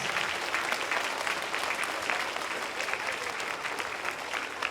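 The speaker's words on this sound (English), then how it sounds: "I think you should put your hands together and give yourself a big round of applause." An audience at a Pride Day salon event breaks into sustained, dense applause, steady and full for several seconds with faint crowd murmur beneath.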